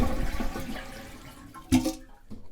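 Toilet flushed during demolition of a half bath, a gurgling rush of water with a sudden surge partway through, fairly close.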